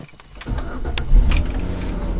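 A car engine cranks and catches at about half a second, then settles into a steady low idle rumble close by, with a few clicks and brief higher whirs over it; no one speaks.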